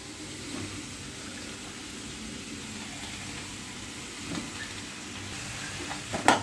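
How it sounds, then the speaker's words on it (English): Vegetables and diced white pumpkin stirred in a pot for a South Indian mixed vegetable stew, giving a steady low bubbling, scraping bed with a few louder clacks near the end. "Stirring the vegetables"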